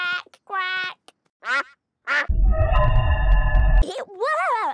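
A Peppa Pig cartoon character imitates a duck with several nasal quacks, separated by short pauses, alongside a low rumbling noise partway through.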